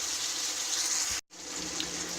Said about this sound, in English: then I'm going to add probably the rest of my water.